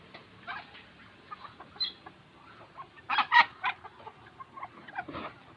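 Asil breed chicken clucking in short, scattered bursts, fairly quiet and close, with a few louder squawks toward the middle and no voices.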